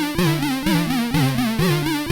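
Commodore 64 chiptune loader music for the game Parallax, with a loud repeating synthesized melody over a pulsing bassline in a steady, bouncing rhythm.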